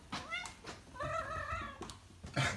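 A pet cat meows repeatedly as she is offered cat milk, giving several close, clear meows in quick succession with a brief pause between them.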